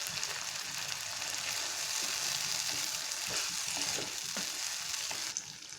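Mango ginger simmering in tamarind water in a pan for a Tamil thokku, a steady close bubbling sizzle with faint stirring scrapes and no talking.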